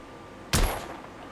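A single sharp gunshot from a firearm in The Order 1886, loud and sudden with a short fading tail.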